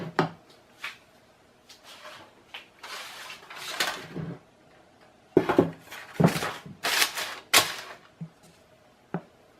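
Cheesecake batter being stirred by hand in a bowl as egg whites are folded in for a Japanese cotton cheesecake, with scattered clinks and scrapes of utensil against dish in bursts, close and fairly loud, no talking.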